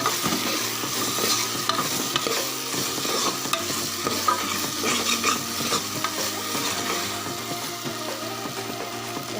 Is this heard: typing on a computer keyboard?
no